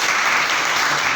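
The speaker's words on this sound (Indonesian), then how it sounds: "tepuk tangan" A classroom of students claps together at a teacher-training lesson, a brief, dense and steady burst of applause with no voices over it.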